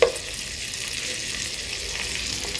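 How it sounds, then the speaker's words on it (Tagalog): Chicken cut into long strips browning in a frying pan, giving a steady, close hiss of sizzling oil that holds level from start to end with no voices. "Naprito ko na yung chicken."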